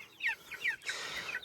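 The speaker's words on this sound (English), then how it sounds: "First batch of Cornish cross meat birds are finally out on pasture." Cornish cross meat-bird chickens out on pasture give soft clucks and chirpy calls, a few short bursts in quick succession, fairly close but quiet, with no talking.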